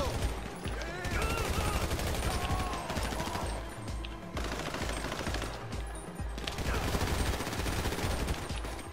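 Sustained automatic gunfire in GTA 5 Online, rapid dense bursts with brief gaps, loud and continuous over a busy game soundscape, with faint voices mixed in.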